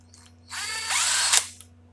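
An impact wrench spins off the pinion nut on a Chevy rear axle during a pinion seal job, whirring for about one second at close range without hammering and then winding down.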